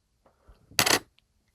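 A short metallic clink and rustle of pennies and commemorative coins being handled, one brief burst close up amid near silence, followed by a faint tick.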